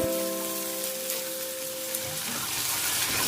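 Tomatoes stir-fried with cooked spice paste in a pan, a close, continuous sizzle and crackle with light stirring scrapes and no voices. A steady tonal hum fades out midway.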